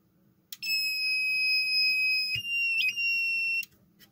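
A telecom environment control module sounds its audible alarm: a loud, piercing high electronic tone that starts abruptly, blips briefly once midway and cuts off sharply after about three seconds, with a faint click.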